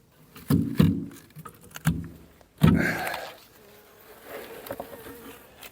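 Close, loud buzzing of bees in short bursts as they are brushed off honey frames during harvest, with brushing scrapes and a few sharp knocks.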